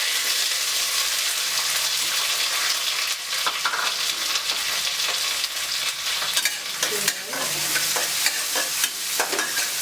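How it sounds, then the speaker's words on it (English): Jeera, dry red chilies, curry leaves and small onion sputtering in hot oil for a dal tempering, a continuous crackling sizzle with scattered sharper pops, close and steady throughout with no talking. "Let it sputter. Add a teaspoon of jeera, dry chilies, red dry chilies, curry leaves and small onion."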